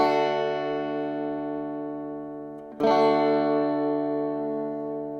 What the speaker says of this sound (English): I'm just going to strum the bottom 4 strings.